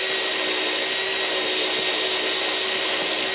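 A drill running continuously at steady speed, its bit wiggled in the screw holes of wooden ramp supports, a loud even whine with no pauses or talk.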